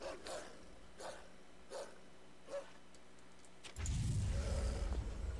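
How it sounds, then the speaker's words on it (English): Dog barking in the video game Tales of Zestiria, four short separate barks spaced about a second apart, fairly faint, before a louder wash of game noise takes over. "What dog? Oh, that dog."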